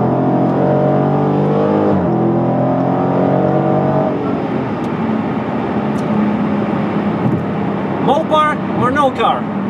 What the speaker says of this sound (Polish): a teraz na chwilę się zamknę i posłuchajcie, zrobię kickdown